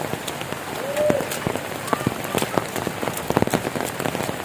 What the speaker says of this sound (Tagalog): Grabe ang uwan diri.